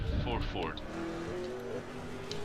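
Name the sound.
Ford V8 Supercars racing on track, from a video game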